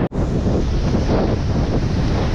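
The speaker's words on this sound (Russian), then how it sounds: "Просто идет дикий накат волн." Storm waves crash and roll onto the shore in Crimea during a fierce storm, a loud continuous roar of surf mixed with heavy wind buffeting the microphone, with no talking.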